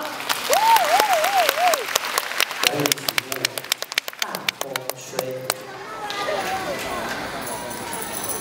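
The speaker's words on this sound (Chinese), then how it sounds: "我们给他们一个最棒的掌声" At a kindergarten performance, a brief spoken voice gives way to scattered, sharp individual claps from the audience that thicken into a murmuring crowd noise toward the end.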